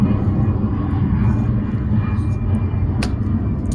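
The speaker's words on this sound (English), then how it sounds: "That was actually a plane." An airplane passes overhead as a steady broadband rumble that fills the whole stretch at a fairly loud, even level, with no talk over it.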